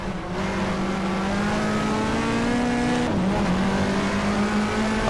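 A race car engine in the GTR2 racing game, set in a 1994 Australian Manufacturers Championship race at Eastern Creek, drones loud and steady, its pitch climbing slowly, dropping sharply once at a gear change, then climbing again.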